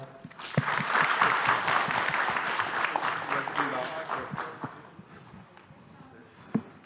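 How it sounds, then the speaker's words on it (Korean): A conference audience claps together in dense, sustained applause that gradually thins out and fades toward the end. "마지막에 다 같이 박수로 마무리하도록 하겠습니다"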